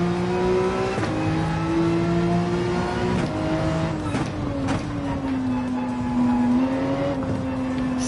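A race car engine in Gran Turismo 7 climbs and holds steady revs during an online race, a loud sustained whine that dips briefly around shifts and lifts before building again, with no talk over it.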